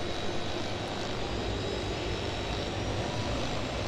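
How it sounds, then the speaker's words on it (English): Steady, droning engine rumble of a video game helicopter overhead, constant and broadband with no breaks, moderately loud and no voices. "Oh, the helicopter noise."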